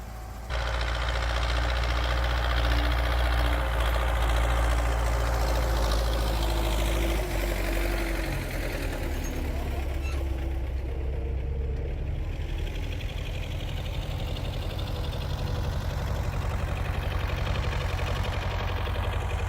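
A tractor engine idles steadily and close by, a heavy low rumble with a faint knocking pulse that holds unchanged throughout, with no talking over it.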